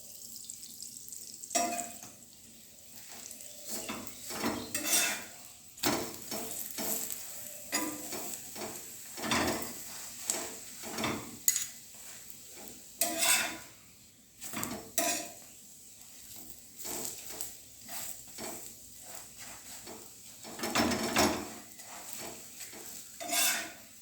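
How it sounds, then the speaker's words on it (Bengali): Cauliflower paratha frying in ghee in a pan, with repeated stirring and scraping of a utensil against the pan and soft sizzling, close and fairly quiet. "দেখো ঘি দিলাম, ঘি দিয়ে ভাজলাম।"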